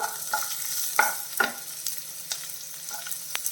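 Chopped onions sautéing in a pan, a soft steady sizzle with a few sharp stirring clicks and scrapes, close and with no talking.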